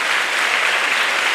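Audience applause at a Tamil public speech, a loud, dense and steady burst of many hands clapping together with no pauses, close and filling the room.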